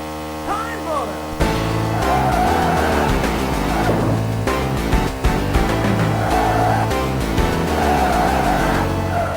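Race car in the Sega 32X game Virtua Racing Deluxe, an early polygon driving game, with a loud continuous synthesized engine drone and tire noise mixed under game music, filling the whole stretch without a break.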